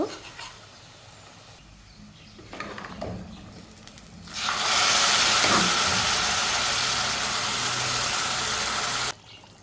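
Beef dropped into a hot pan with fried onion, coriander and cumin, a quiet start breaking into a loud, steady sizzle that holds for several seconds, then cuts off abruptly.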